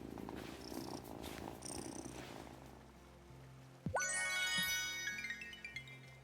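A cat purrs steadily in a video game, a soft continuous rumble followed by bright chiming game tones partway through, with no talking.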